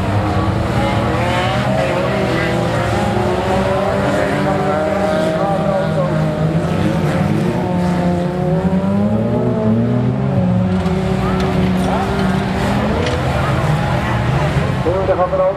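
Car engines at a rodeo event on Sint Maarten drone and rev steadily, with pitch rising and falling as the cars race, while a voice talks continuously over them.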